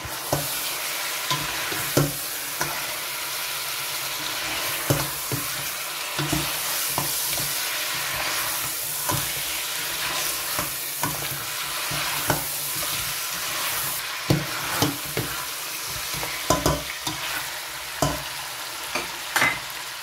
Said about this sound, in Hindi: चिकन का कलर अच्छी तरह चेंज होने तक इसे भी प्याज और लहसुन अदरक के साथ अच्छी तरह से भून लूँगी